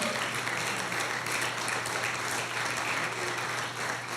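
Church congregation clapping for the Lord during a sermon, a sustained even roar of many hands at moderate level with no break.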